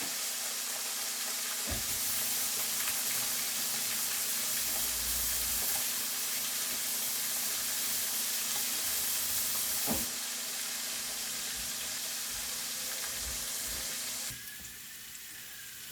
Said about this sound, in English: So I'm just putting in the carrots and these